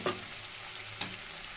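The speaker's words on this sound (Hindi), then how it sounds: "ये देखिए हम इसको अच्छे से भूनते हैं गोश्त को" Chicken pieces frying in a pot, a quiet steady sizzle with a couple of soft stirring scrapes, brief and close.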